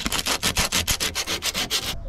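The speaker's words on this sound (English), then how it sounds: "good old-fashioned sandpaper." Rusty bodywork panel of a 2008 Smart Fortwo 451 being hand-sanded with sandpaper, a steady rhythmic back-and-forth rasp of about a dozen close, loud strokes with no talk, ending abruptly.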